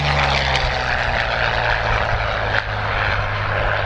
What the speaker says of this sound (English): This is the last pass by the P-40.